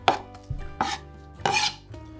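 A knife chopping onion on a board in a home kitchen during taco preparation: four or five sharp, irregular close-up chops with quiet pauses between them.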